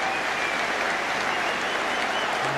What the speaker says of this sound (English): The applause is for Jermaine Wright, who showed a tiny bit of skill there.